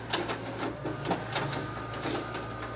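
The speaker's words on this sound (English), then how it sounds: "as you can see, the document feeder is working properly" A Toshiba eStudio 4540c photocopier runs its document feeder, giving a steady mechanical hum with rhythmic soft clicks and whirs of pages feeding through, at moderate volume and close by.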